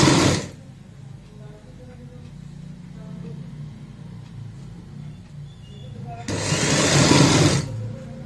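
A sewing machine runs stitches over the frill seam on a baby frock, loud bursts at the start and again near the end, with a steady low hum between.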